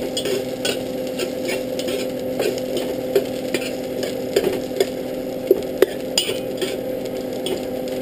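Garlic and onion sauté in a pan for mung bean stew, a steady soft sizzle with repeated scraping stirs and light utensil taps against the pan, close and continuous with no talking.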